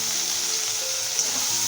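Fried potato and eggplant sizzle steadily in a hot pan as ginger paste is sautéed with them, a continuous close crackling hiss with no voices.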